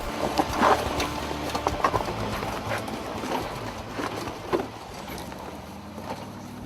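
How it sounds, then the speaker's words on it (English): Mercedes G63 AMG 6x6 crawling up and over boulders off-road, with rumbling engine and drivetrain noise mixed with scattered knocks and crunches of tires on rock, fairly close. "Bunch of boulders, no problem for the 6x6. Oh, look at that, just goes right up."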